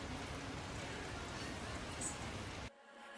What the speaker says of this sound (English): It's really pouring out there